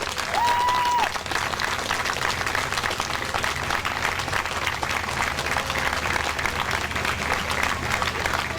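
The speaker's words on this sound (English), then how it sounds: "We need to clap louder than that for these folks." A parade crowd lining a Labor Day route claps for passing entrants, a broad, continuous patter of many hands with a short tone near the start, no talk on top.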